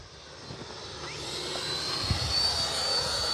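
FMS Futura 64mm RC model jet flying with takeoff flaps in some wind, a faint distant ducted-fan whine that rises gradually in pitch and strength over a few seconds, with wind buffeting underneath.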